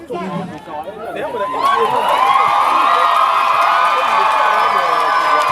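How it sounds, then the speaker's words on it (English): A stadium crowd at a football semi-final swells into sustained cheering and shouting, rising loud after a couple of seconds of mixed chatter and holding steady. "Yes, you can hear the cheers from the crowd."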